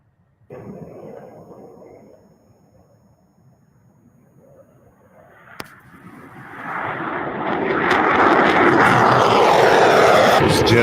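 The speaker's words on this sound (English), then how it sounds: "This jet should be painted blue for NATO." A jet aircraft flies overhead, its engine noise starting as a low rumble and swelling into a loud, broad roar that keeps building toward the end.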